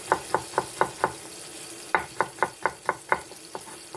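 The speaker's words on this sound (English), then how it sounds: "you can hear the frying going now" Pork escalopes in a frying pan make a series of sharp, close clicks and scrapes in two quick rhythmic runs separated by a brief pause, over a faint sizzling hiss.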